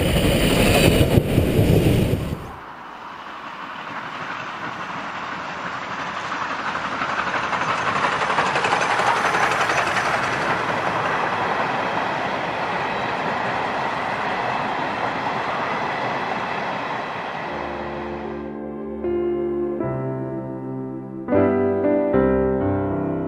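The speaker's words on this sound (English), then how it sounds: "the train arrived over the horizon bang on time" A steam train rolls in on the line between Dublin and Maynooth with a broad, building roar and rumble, then long whistle-like tones sound near the end.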